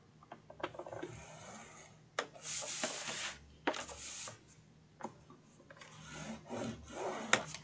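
Brown and pink card stock, cut at 8.5 by 5.5 inches, is scored along the long side with soft scraping, rubbing strokes and light ticks, close and quiet, in uneven bursts.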